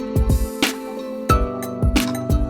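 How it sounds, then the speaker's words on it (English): Synth sound from Arturia Analog Lab playing a repeating beat pattern, with punchy low kick-like hits and bright tonal chords sustaining between them, loud and alone with no talk. "This sound you hear is from Analog Lab."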